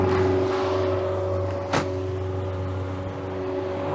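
Boat motor droning at a steady pitch while cruising about 7 knots at 2,700 RPM on Lake Nipigon, constant and close, with a single brief knock partway through.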